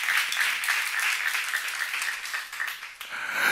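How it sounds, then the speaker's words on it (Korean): A church congregation claps together during a sermon seminar, a dense, steady wash of applause held for several seconds with a brief dip near the end before swelling again. "박수 한번 쳐봐."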